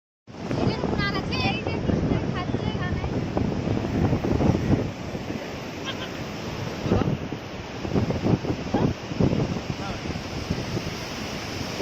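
Sea waves roll and break on the beach at Gopalpur, Odisha, a continuous surging wash with strong wind buffeting the microphone and occasional louder crashes of surf.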